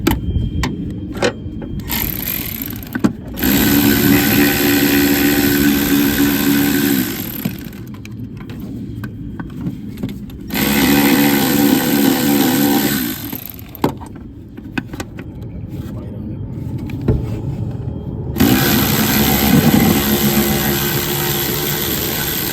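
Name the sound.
electric ratchet loosening bulkhead connector bolt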